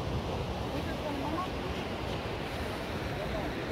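Sea surf rolls steadily at low tide at Tanah Lot in Bali, a constant washing roar mixed with wind noise on the microphone, moderately quiet throughout.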